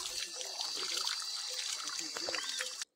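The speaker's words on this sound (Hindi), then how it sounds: "फ्रेश पानी माउंटेन से आता है जो" Fresh mountain water trickling and splashing on a Himalayan trek route, a bright continuous close-up burble for a few seconds before cutting off, with a voice faintly underneath.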